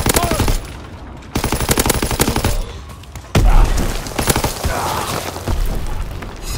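Rapid machine-gun fire in a video game comes in long, loud bursts of fast, evenly spaced shots, broken by short pauses and a heavy boom, with a voice calling out in between.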